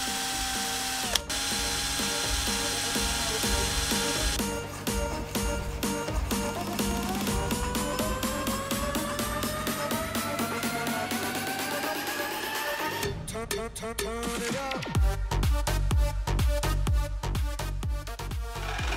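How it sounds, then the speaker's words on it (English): A drill bores pin holes in a steel knife blade, a sustained whining drone with slowly shifting pitch, then a harsher chattering, grinding stretch as the bit bites into the metal, close and continuous. "I have to drill two holes for the pins."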